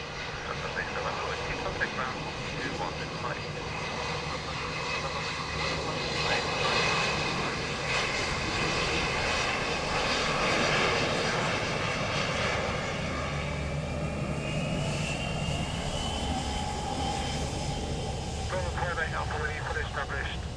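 Airliner engines roar steadily at Dublin Airport in stormy, gusty wind, a broad sustained rumble with a passing whine, under near-continuous air traffic control radio talk.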